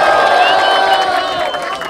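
A loud crowd applauds and cheers at a freestyle rap battle event in Barueri, São Paulo, with dense clapping and shouts filling the space without pause.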